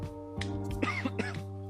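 A person coughs and clears their throat in a few short, close bursts. A steady hum runs underneath.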